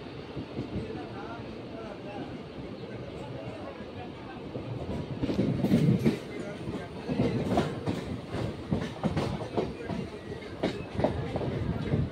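A local train to Chennai Central rumbles along the tracks with steady low rumble and rhythmic clatter, growing slightly louder midway, with faint voices in the background.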